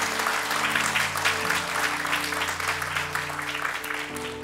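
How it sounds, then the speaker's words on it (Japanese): A church congregation gives a burst of applause, many hands clapping together in a dense, steady roar that fades slightly toward the end, with a faint musical tone underneath. "Give the Lord a clap offering."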